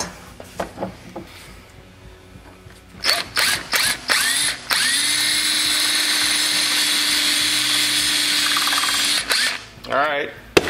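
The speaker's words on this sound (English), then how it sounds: "It's drilling." Power drill boring into the metal of a 1958 Wheelie Horse RJ58 during restoration: a few short bursts, then a long steady whine for about five seconds, then more brief bursts, close and loud, with a voice speaking in between.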